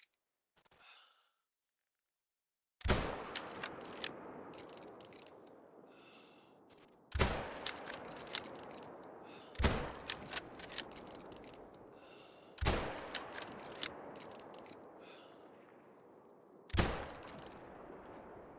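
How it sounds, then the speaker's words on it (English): Five loud, separate rifle shots at a crocodile in theHunter: Call of the Wild, each sharp crack trailing into a long echoing decay, spaced a few seconds apart after a quiet start. "Yo, I put so many bullets in that croc"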